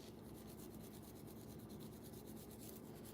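A soft bristle brush with cleaner scrubs a ball-jointed doll's face in steady, continuous close strokes, a soft rasping rub at a low level with no talk.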